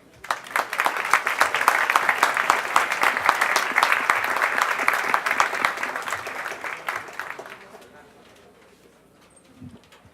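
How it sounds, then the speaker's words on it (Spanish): A conference audience gives warm, steady applause welcoming the speakers, sustained for several seconds before fading out into a quiet room with faint voices. "Sanabria López, jefe del Programa Político, a quienes recibimos con un caluroso aplauso"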